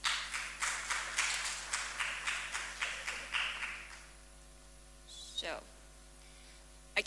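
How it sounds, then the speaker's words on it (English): An audience at an academic medical talk applauds a speaker in a hall, a moderate burst of rhythmic clapping that fades away after about four seconds, followed by quiet room tone and a brief faint noise. "So please give a round of applause to Dr."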